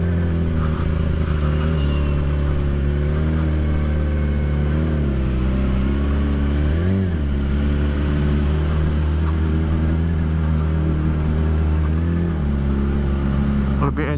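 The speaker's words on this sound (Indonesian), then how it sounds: "ini knalpotnya berisik ya Allah" A Yamaha R6 motorcycle with a loud exhaust rides steadily, its engine droning and rising and falling in pitch throughout, close and continuous, with a voice talking over it.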